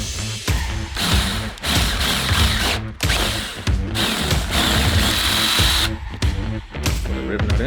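A power drill bores out hinge holes to an oversized diameter for rivet nuts, running in repeated bursts of several seconds with brief pauses between, loud and close.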